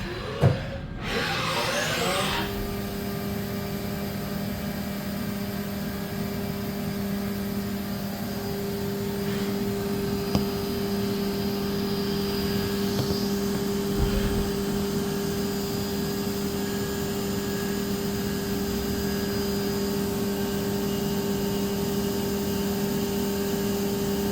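A Haas VM2 vertical machining center runs its spindle at about 12,000 RPM, giving a steady, loud high-pitched whine with a constant tonal hum after a brief spin-up at the start, and no talking throughout.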